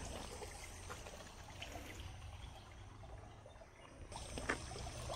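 Water trickling into an old hot spring tank in Unhavare village, Dapoli: a faint, continuous trickle and splash, close and low in level, with a slight rise near the end and no talk.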